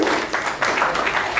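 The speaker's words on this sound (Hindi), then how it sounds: "उनके लिए जोरदार तालियां हो जाए" An audience at a stage performance applauds the chief guest, a brief, steady patter of many hands clapping at moderate volume.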